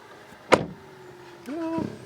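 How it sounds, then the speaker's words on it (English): The door of a 2020 Kia e-Soul electric car shuts with a single solid thud, followed by a brief mechanical whir and click, all heard close up and fairly quiet. "And the door closing sound."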